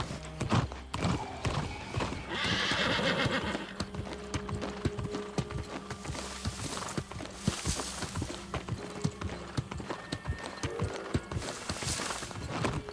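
A horse's hooves clip-clop in a steady rapid rhythm while riding in the video game New World: Aeternum, loud and continuous with game ambience, whooshes and a brief whinny-like cry mixed in.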